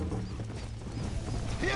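Rhythmic hoofbeats of a galloping horse in Red Dead Redemption with a brief whinny, under a continuous game soundtrack and some speech.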